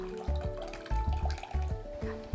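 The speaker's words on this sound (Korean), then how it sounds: "시금치 찬물에 헹궈서" Fresh spinach is rinsed under a running tap of cold water in a kitchen sink, giving splashy, gurgling water with short rhythmic bursts as the leaves are swished, close and fairly clear.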